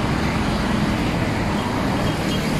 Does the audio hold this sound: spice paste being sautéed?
no